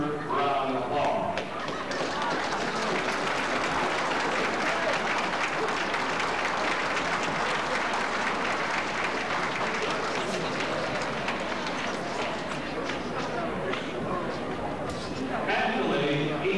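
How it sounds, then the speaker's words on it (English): An audience at a high school JROTC military ball applauds, steady dense clapping that fills the room throughout, with voices briefly heard at the start and end. "Will the parents please stand up for a well-deserved round of applause?"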